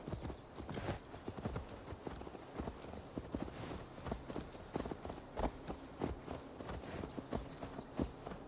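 Horse hooves clip-clop steadily at a walking pace in Assassin's Creed Valhalla, a dense run of close, repeated hoof strikes over a busy background of ambient game sound.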